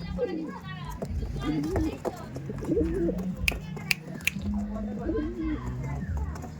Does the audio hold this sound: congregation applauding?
no